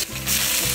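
Chopped garlic, ginger and scallion dropped into hot oil, a sudden bright sizzle that swells and holds steady, close and loud, briefly over a low background hum.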